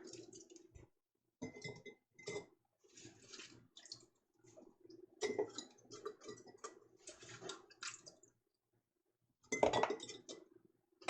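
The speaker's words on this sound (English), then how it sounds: "we're going to add some potatoes to each jar" Potatoes dropped into a row of glass jars while making Zuppa Toscana soup, giving scattered clinks and clatters of food and glass in short bursts with quiet gaps between them.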